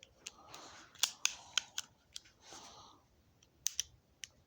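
Trigger on a Tanfoglio GT27 .25 ACP pistol pulled repeatedly, giving a series of sharp, close metallic clicks at uneven intervals, with soft handling noise between them.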